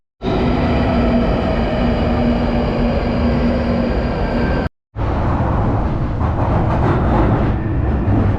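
A loud, continuous rumble and roar of a London Underground train in a station, cut briefly by a moment of silence before the noise resumes.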